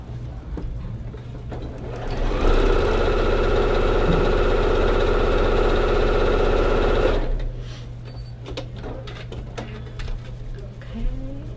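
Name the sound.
sewing machine stitching rows on a quilt block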